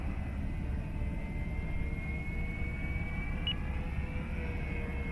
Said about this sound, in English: I'm really enjoying this plane